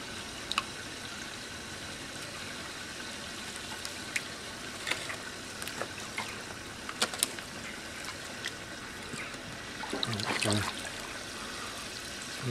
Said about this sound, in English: here we are filling up the basket with a frog spawn, which is down into this very